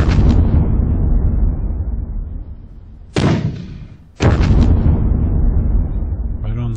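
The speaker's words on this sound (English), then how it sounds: "Enemy indirect fire." Enemy indirect artillery shells in the Soviet-Afghan War game TRW: Squad Battles land as three heavy booming explosions, the first and last long and rumbling, the middle one sharp and shorter, each decaying into rolling noise.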